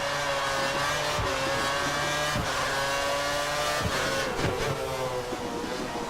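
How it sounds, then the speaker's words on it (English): A Formula 1 car in the F1 2013 racing game at the Shanghai circuit brakes hard and downshifts for a corner, its high whining engine note stepping down through gears with short tire squeals, loud and continuous. "Down to first gear, using the brakes a lot. Oh, the car's going a bit wide."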